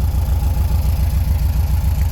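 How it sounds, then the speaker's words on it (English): The fuel injection engine of a 1979 Volkswagen convertible Beetle idles close by, a loud, steady low rumble with an even, pulsing throb and no voices. "So engine's running right now. It's a fuel injection engine."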